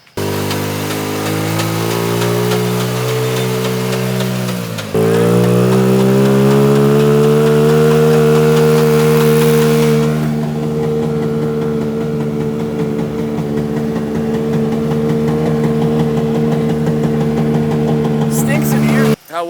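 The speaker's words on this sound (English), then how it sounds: "Nate, give it some throttle first." A moped engine fitted in a homemade moped-powered car revs hard, climbs in pitch and then holds a loud, steady buzzing drone close by.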